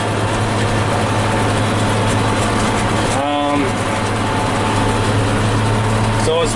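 A New Holland 8160 tractor, a full power shift model of about 90 horsepower, idles with a steady low engine drone throughout, broken briefly by a couple of short higher tones.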